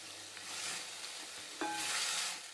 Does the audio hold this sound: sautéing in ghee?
yes